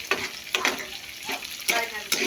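Tofu frying in a pan until browned, a soft crackling sizzle with short bursts as the pieces are turned.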